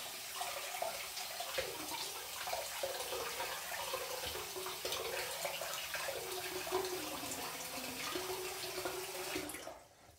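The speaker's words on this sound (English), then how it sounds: "Rinse my hands a little bit. All right, let's heat up my razor." Water runs steadily from a tap while hands are rinsed and a shaving razor is warmed, a soft, continuous splashing that stops abruptly at the end.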